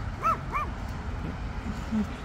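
A dog barks around a flower bed at a succulent plant sale, giving two quick sharp yips close together and then a lower single bark, at moderate distance under faint background noise.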